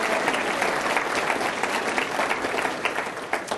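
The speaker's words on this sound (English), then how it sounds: "so give them a round of applause." Audience applause at a city State of the City address, dense sustained clapping from a large room of people, even and continuous with a few sharper claps standing out.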